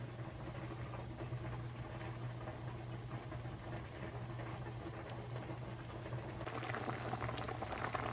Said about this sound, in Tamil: இப்போ மீன் தலை அவிஞ்சிட்டுது நல்லா